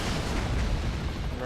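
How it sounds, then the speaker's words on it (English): Heavy, continuous rumbling artillery fire in a combat flight video game, with booming blasts blurring into one dense roar, loud and close throughout. "is that artillery?"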